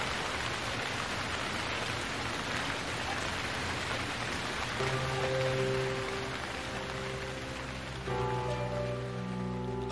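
Steady rain falls outside a closed game shop, a dense even hiss of drops on surfaces, with a low tonal hum and faint musical tones rising under it in the second half.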